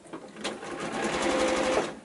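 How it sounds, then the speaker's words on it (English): Sewing machine stitching quilt fabric pieces at a quarter-inch seam allowance, running close and steady with a fast rhythmic whir for about two seconds. "And I'm sewing with 1/4 inch allowance here."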